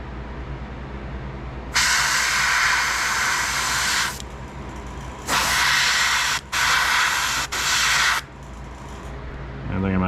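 An airbrush spraying black paint onto the fenders of an O scale Divco milk truck model, loud close hissing blasts in several bursts of a second or two each, separated by brief pauses.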